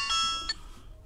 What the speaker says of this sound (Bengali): আরক ভাই ফোন করছেন